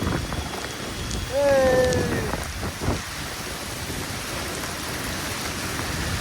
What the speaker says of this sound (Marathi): पाऊस एकदम जोरान चालू झाली